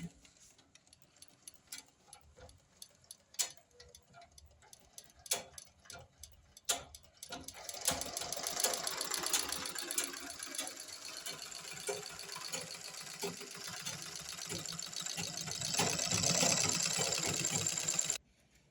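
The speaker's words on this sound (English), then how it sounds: "If I slow down the pedal, the machine moves in a slower motion." A sewing machine runs at low speed as its pedal is eased off, first slow spaced clicks, then a steadier mechanical whirr and rapid ticking, close by, with no one talking.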